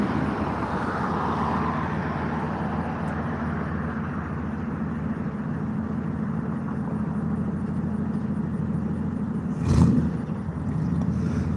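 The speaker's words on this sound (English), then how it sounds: "Check out this old truck," An old truck's engine runs steadily outdoors on a cloudy day, a continuous low, rumbling drone at moderate distance, with a brief louder bump near the end.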